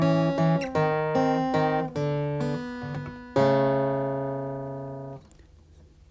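A fingerstyle blues riff rings out on an acoustic guitar, a short sequence of plucked notes and chords ending on a sustained chord that fades away, played alone without speech.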